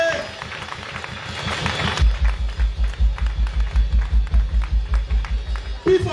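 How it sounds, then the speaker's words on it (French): Audience in a church hall during a foundation anniversary celebration claps in a steady rhythmic beat, loud and close, with a booming bass pulse and voices underneath. "On applaudit cet esprit sans rester dans salle là."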